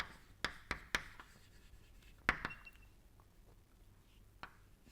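Chalk or pen strokes during a thermodynamics lecture on exergy, a few sharp taps and scratches written up close in a quiet room, arriving in small irregular clusters with pauses between.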